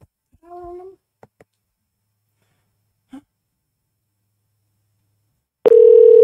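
A telephone tone after a wrong number is dialed, a loud steady beep that starts abruptly near the end, preceded by a brief vocal sound, a few faint clicks and near silence.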